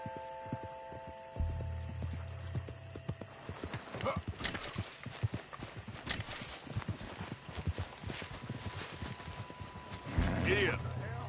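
Horse hooves clip-clop at a steady trot while riding in a video game, a continuous rhythmic run of close hoofbeats over a low droning hum, with a brief snort or whinny near the end and no clear talk.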